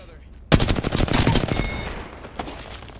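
Rapid automatic gunfire in the battle royale shooter Apex Legends, a loud close burst of quick repeated shots that starts abruptly, runs about a second and a half, then trails off into a few fainter distant pops.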